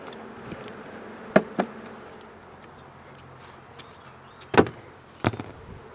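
Honey bees hum faintly around an open nuc hive, a soft steady buzz with a few sharp knocks and clicks, likely from handling frames.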